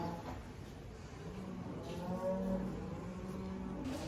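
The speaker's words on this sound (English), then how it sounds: "You can see there's a lot more heifers, calves, the limmies in here as well." Heifer calves, including Limousin crosses, mooing in a lambing shed, with a few drawn-out low calls rising out of steady barn background noise, moderately distant and with no talking.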